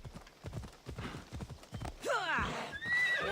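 In Assassin's Creed Odyssey, a horse's hooves clop in a quick gallop rhythm and then it gives a loud, close whinny that carries to the end.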